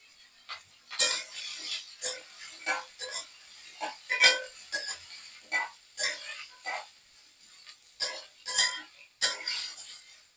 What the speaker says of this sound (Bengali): আলু পেঁয়াজ একসাথে ভেজে নিব